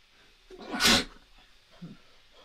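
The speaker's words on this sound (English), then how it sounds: "I had to sneeze." A single sharp sneeze, close and fairly loud, in an otherwise quiet room, followed by a faint murmur.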